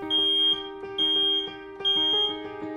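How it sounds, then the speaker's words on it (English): A smoke alarm gives three loud, piercing electronic tones in a regular on-off pattern, each about half a second long with short pauses between, and no speech. "This is the sound of fire safety."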